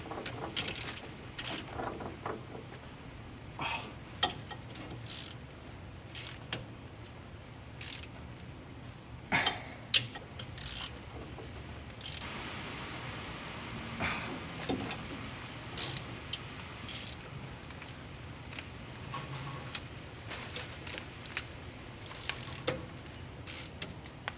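A socket wrench ratchets in short, irregular bursts of clicking during maintenance on a 25-year-old Chevy S10 pickup, close and fairly clear, with pauses and occasional metallic clinks between turns.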